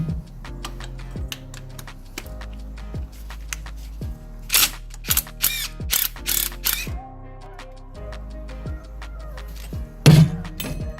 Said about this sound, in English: You have to hold the backside with a wrench.